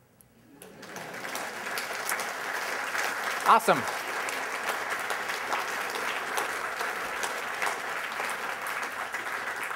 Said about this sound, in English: So there's where we get a clap.